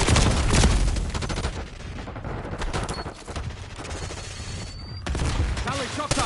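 Enemy gunfire in Call of Duty Black Ops 6 comes as dense, loud, sustained automatic bursts that crackle and rattle almost without pause, with game sounds and effects layered in.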